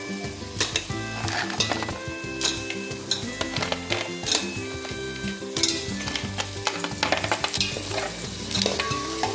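Masala and crab claws sizzling loudly in a pan for Malvani crab curry, with steady frying hiss, frequent stirring scrapes and clinks of a spoon against the pot, close up and with no talking.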